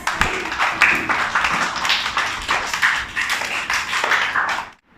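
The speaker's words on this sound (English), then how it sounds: "All of you clap for Ans" A group of playgroup children claps for a classmate in a classroom, a dense, uneven patter of small hands that runs steadily for about five seconds and then stops abruptly.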